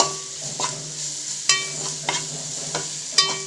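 A spoon stirs a mixture with onions frying in a pan for Hyderabadi egg biryani, a few sharp clinks against the metal over a low steady sizzle, close and without speech.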